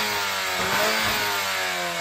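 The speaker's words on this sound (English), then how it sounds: "Maybe I should shut up so you can hear the car." Loud, close engine of a hot hatch car revving up and easing back, with rising and falling pitch and a raspy exhaust tone.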